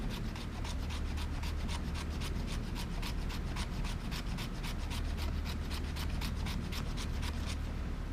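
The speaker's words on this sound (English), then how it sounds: "Let's check the spine, see if we can scrape off some" Steady, even rasping strokes of a White River Firecraft 3.5 knife spine scraping shavings from wood, repeated rhythmically at close range with no talking.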